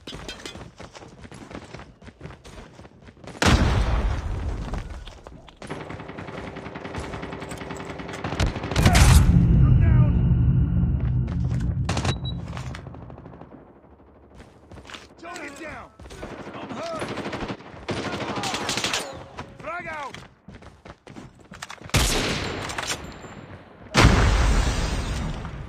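Video game battle sounds: rapid automatic gunfire bursts and a heavy grenade explosion with a low booming rumble, loud and repeated over nearly half a minute, with occasional voices in the mix.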